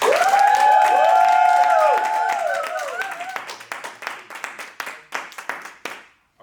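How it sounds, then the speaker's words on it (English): Audience applause and cheering for Clive Morrison, the Black Businessman Warrior, as he comes on. A full burst of clapping with whoops and high shouts rises at once and then thins out into scattered claps and voices. "Please give a big round of applause for Clive Morrison."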